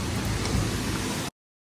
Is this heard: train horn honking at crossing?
no